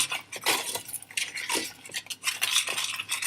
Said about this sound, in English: I'm going to put this actually back on the heat and stir this in